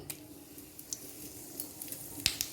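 Dried red chillies, bay leaf and small green cardamom pods crackling in hot oil as a tempering for a Bengali cabbage dish, a faint steady sizzle with a few sharp pops, close and alone.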